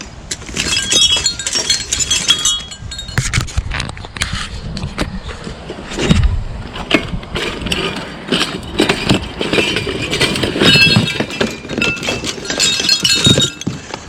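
Glass clinks, scrapes and shatters repeatedly while scrap is cleared with a mop, a loud, dense run of sharp crunches and tinkles throughout, close by.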